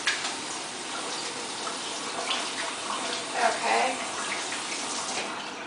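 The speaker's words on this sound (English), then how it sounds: "Go ahead and wash my hands really fast." Tap water runs steadily from a faucet as hands are washed at a kitchen sink during a cooking demonstration, a continuous close splash that swells briefly midway, with a short spoken word.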